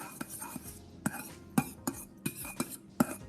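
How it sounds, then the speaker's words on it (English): A metal spoon stirs liquid contents in a container, knocking against the sides in a quick, steady series of about eight light, close clinks over a faint background hiss. "I'm gonna take my spoon again and just give it a quick stir"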